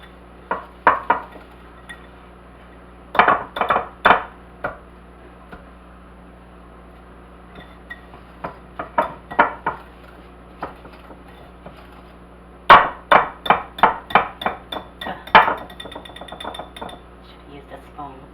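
Sugar mixed in a bowl with a spoon, bursts of quick clinking and scraping strokes against the bowl separated by pauses, close and clear, with people talking between the bursts.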